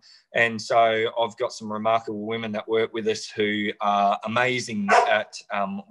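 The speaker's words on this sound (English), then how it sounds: "that's my dog in the background" A dog barks in the background, the barks mixing under steady close conversational speech from a man and never standing clear of the talk.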